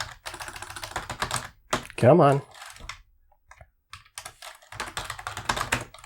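Computer keyboard typing in quick, uneven bursts of clicks, stopping and starting between short stretches of someone talking nearby.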